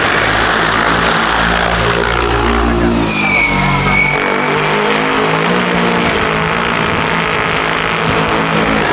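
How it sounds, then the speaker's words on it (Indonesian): An agricultural spraying drone lifts off on farmland, its propellers building from a low engine-like drone into a loud, steady whirring buzz that fills the whole clip, with a rising pitch sweep as it climbs. "Drone take off."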